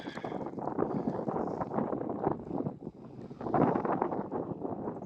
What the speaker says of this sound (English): the wind has picked up quite substantially, so I'm making my way to shore here